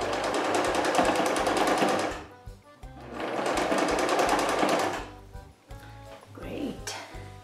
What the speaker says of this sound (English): try to sew as straight as possible